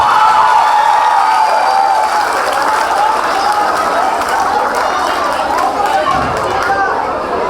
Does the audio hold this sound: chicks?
no